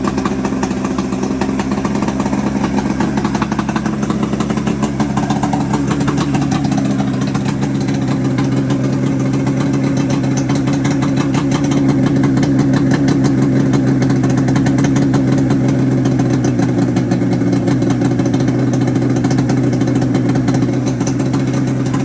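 A 4x4 golf cart fitted with a 700cc Yamaha Grizzly ATV engine idles steadily and loudly nearby, a continuous low, even engine drone with no talking.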